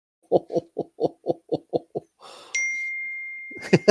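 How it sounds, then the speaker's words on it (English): A single bright ding of a bell rings out clearly and lingers with a sustained tone, following a run of rhythmic laughter-like bursts, with brief voices at the very end. "That's the bell."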